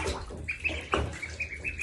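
Ducklings splash in shallow bath water, giving short, irregular wet flicks and drips, with faint high peeps mixed in at close range.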